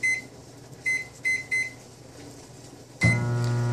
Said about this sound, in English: Oh, microwave. And you're going to set the timer for